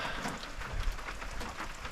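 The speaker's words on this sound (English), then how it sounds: "Pretty consistent rain." Steady winter rain on a mountain trail patters softly and continuously, an even hiss of falling drops with no voices.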